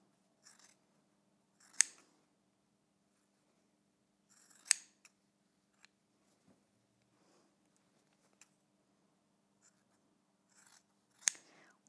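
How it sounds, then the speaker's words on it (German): Fabric scissors snip at the corners of a jacket pocket flap during sewing. The cuts come as crisp, close clipping bursts spread through otherwise quiet stretches, with faint handling ticks between them. "Überall so ein bisschen die Kanten wegschneiden an den Ecken."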